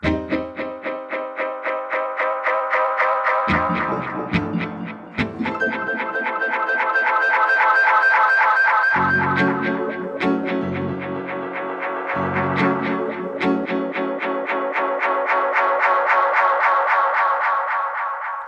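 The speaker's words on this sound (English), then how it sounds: "So they've got a really nice saturated distortion to the tail without it becoming really, really overdriven." Tape echo unit preset used for dub music, giving a dense, pulsing stream of repeating echoes with saturated distortion and wavering pitch, steady and loud throughout with no voices.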